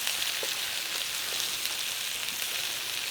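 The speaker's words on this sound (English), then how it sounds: "cook those onions in there with some butter" Onions fry in butter in a pan, a steady, fine crackling sizzle with scattered small pops, moderately quiet and continuous.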